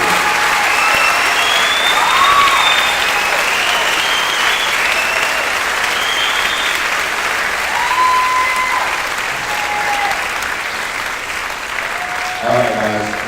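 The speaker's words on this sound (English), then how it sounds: "Please give them a round of applause." Sustained applause from a school audience at a spring concert awards ceremony honoring the 8th grade class, a dense steady wash of clapping lasting throughout, with faint whistles or cheers now and then.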